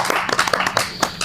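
A few people clapping hands close by in short irregular bursts, brief and informal, with faint talk underneath.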